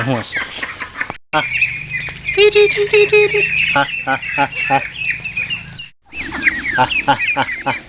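Domestic ducks, large and small, mixed with chickens, call all around a rural home yard as they come back to the pen. Dense overlapping quacks and clucks ring out close by, with two brief lulls.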